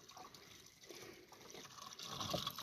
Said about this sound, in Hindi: तो हम फिर यहाँ आ गए पानी भरने।